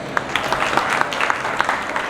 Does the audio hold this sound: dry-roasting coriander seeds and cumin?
no